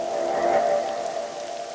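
A soft, steady rain ambience used as an atmospheric layer in a lo-fi hip hop track, a gentle continuous hiss with a faint sustained tone running beneath it, no voices.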